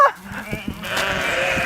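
A wild bighorn sheep bleats in a drawn-out, nasal call, loud and near, over a continuous background of rumbling noise.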